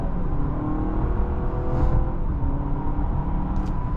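A 2024 Honda CR-V Hybrid Sport accelerates on a test drive, a steady low engine and road drone from inside the cabin with a rising whir, constant and moderately loud throughout.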